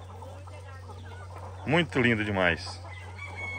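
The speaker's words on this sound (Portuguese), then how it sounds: "Ó a galinha cantando." A hen on a small farm holding clucks and crows in a short harmonic burst, moderately close, with a voice speaking over a steady low hum.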